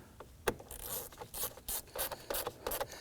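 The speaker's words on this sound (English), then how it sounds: "Go ahead and get that screw in there." A screw is driven into the ignition cover of a 2008-2011 Ford Focus, giving quiet, close, rapid ratcheting scrapes and rubs in short uneven bursts after a single sharp click.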